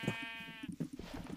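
A sheep in the video game Minecraft gives a single clear, close bleat, followed by soft scattered clicks and faint low sounds.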